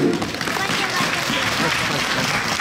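Dense, steady clapping fills a Kamen Rider Ghost stage show hall, a continuous wash of applause from the crowd with an amplified voice talking over it throughout.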